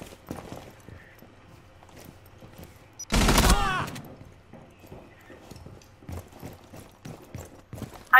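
Gunfire erupts in a single loud, dense burst from a video game shotgun battle, standing out against quiet clicks, footsteps and faint background activity before and after.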